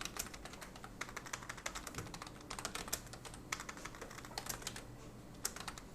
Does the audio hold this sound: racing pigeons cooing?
no